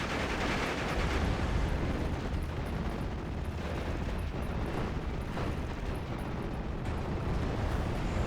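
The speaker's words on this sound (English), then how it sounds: "Zero just getting barraged down." An artillery barrage in a strategy video game: a continuous roar of overlapping explosions and booms, loud and dense from start to finish, with no pause in the shelling.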